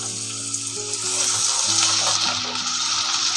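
Water is poured into a pan of desi chicken curry cooking with ginger-garlic paste, producing a rushing splash over hot oil that turns into a steady loud sizzle, with a low background hum and no talk.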